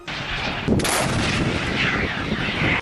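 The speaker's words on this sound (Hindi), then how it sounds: "गोलाबारी के अलावा अजरबैजान की तरफ से ताबड़तोड़ रॉकेट भी दागे गए।" Artillery shelling and rocket fire in the Azerbaijan-Armenia war, a loud close boom followed by sustained rumbling blasts and roaring noise lasting a few seconds, with no speech.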